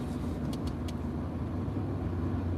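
A car drives along a road, its steady engine and tyre rumble filling the clip evenly from start to finish, with a few faint high clicks early on and no talking.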